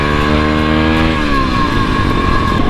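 An MRF motorcycle with a faulty gearbox screams at a steady high pitch against its rev limiter, the engine note holding constant and loud throughout, nearby, with no talking.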